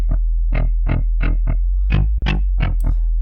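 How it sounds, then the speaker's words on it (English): Dirty drum and bass lead-bass patch in Serum 2, a sine wave FM-modulated by a spectral oscillator, plays as a run of about nine short, gritty, distorted notes in a steady rhythm, loud and alone with no talking. "you're getting the sine wave with the FM signal through the PDB"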